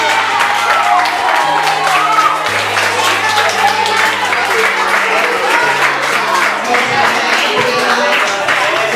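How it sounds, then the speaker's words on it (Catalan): Sustained applause and cheering fill a school end-of-year festival during a prize-giving, a dense crowd clapping steadily and loudly throughout, with a few shouts mixed in. "Un quart aplaudiment."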